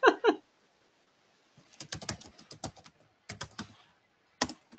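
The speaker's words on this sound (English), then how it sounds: "Somebody is typing seriously." Bursts of computer keyboard typing picked up on an open microphone during an online meeting, irregular clusters of clacking keystrokes with pauses between them, fairly close and clear, with no talking over it.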